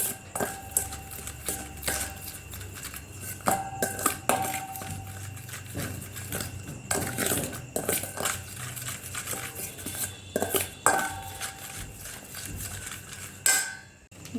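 Spoon clinking and scraping against a metal pot while yogurt is stirred into a spiced desi chicken mixture, irregular close taps and scrapes with quiet gaps between.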